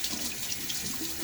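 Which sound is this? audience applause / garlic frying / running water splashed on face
running water splashed on face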